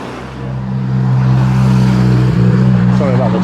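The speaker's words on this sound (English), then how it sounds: "Sorry about the traffic noise." Noisy cars roar past on Lytham Road in Blackpool at night, a loud, continuous engine drone that swells and holds close by.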